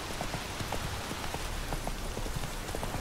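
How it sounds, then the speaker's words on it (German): Rain falling in The Witcher 3: Wild Hunt, a steady, soft patter of drops across the whole stretch, faint and even with small scattered taps and no talking. "Ich meine, es ist jetzt nur Regen,"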